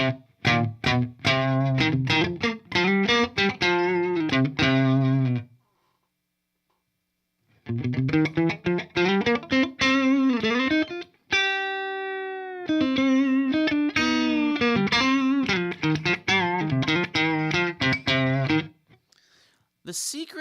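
Electric guitar, a Strat set up for metal tones, plays through an ENGL Fireball 100 amplifier with heavy distortion in fast chugging riffs and sustained chords, broken by a few seconds of silence and one ringing held chord.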